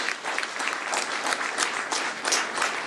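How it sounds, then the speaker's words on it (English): A mosque congregation in Los Angeles gives a round of applause, a short burst of many hands clapping at moderate volume, close and steady, with no speech over it. "Give them a round of applause."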